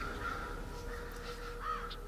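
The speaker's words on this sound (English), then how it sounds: "So we have crows all around, as you can hear." Crows caw a couple of times, faint and distant, over a steady outdoor hum on the grounds of a former 19th-century psychiatric hospital in Bangor.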